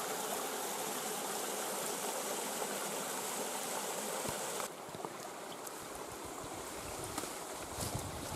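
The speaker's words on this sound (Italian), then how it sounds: "E qui scorre l'acqua che neanche si vede per quanto è alta la vegetazione." A stream flowing through tall vegetation near Colle Castagna on its way to the Melito river, a steady broadband rush of water that drops slightly in level midway, with no talking.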